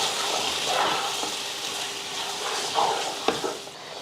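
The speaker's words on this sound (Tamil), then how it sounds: "நல்லா வதக்கி விட்டுட்டு ஒரு பத்து நிமிஷத்துக்கு மூடி போட்டு மறுபடியும் மறுபடியும் வதக்கி விடுவோம்" Mutton sizzles steadily in a pot for biryani, a continuous frying hiss with occasional stirring clanks and scrapes near the end.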